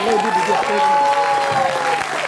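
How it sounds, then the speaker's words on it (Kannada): A hall audience at a Kannada Rajyotsava celebration in Hamburg applauds Malli, steady close clapping with a few cheers and voices mixed in, held for a couple of seconds. "ಹ್ಯಾಂಬರ್ಗೆ ಬಂದಿರೋ ಮಲ್ಲಿ ಅವ್ರಿಗೆ ಒಂದು ಜೋರಾದ ಚಪ್ಪಾಳೆ"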